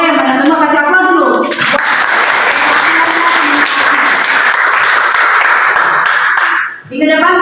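Students in a classroom burst into loud, sustained applause lasting about five seconds, with a teacher's voice heard just before and right after the clapping.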